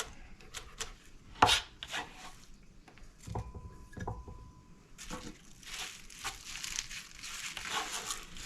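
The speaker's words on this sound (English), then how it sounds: "We're going to cut some scallion up." A knife chops scallion on a board in irregular close taps and crisp cuts, with rustling handling between strokes and a denser run of chopping toward the end.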